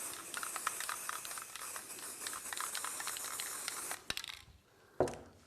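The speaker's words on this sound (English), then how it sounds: "give it a little bit of spray glue" A long continuous hiss of spray glue from an aerosol can, followed by a few sharp clicks and a brief rattle near the end.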